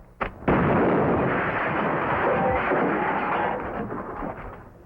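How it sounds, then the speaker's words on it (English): A loud, sustained burst of gunfire-like noise from a slingshot-loaded device in a film scene, beginning with a sharp crack and continuing as dense, roaring fire for several seconds. "What's all the shooting for?"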